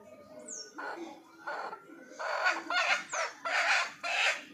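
Chickens cluck in a series of short, throaty bursts close by, with a few higher bird chirps mixed in against a quiet background.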